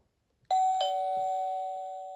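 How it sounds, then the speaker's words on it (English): A single doorbell chime rings out clearly after a brief silence, its bright tone sustaining and slowly fading for well over a second with no voices present. "Oh no, someone is ringing the doorbell."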